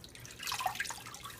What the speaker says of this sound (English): take my wool and squeeze the excess water out like I'm squeezing a stress ball